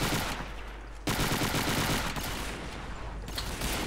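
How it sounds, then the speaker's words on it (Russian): Gunfire in the co-op shooter Hidden & Dangerous 2, with a Burma hilltop bunker battle and an M1 carbine in play. Dense, continuous automatic shooting rattles steadily throughout, loud and close. "Стреляет сверху или вот."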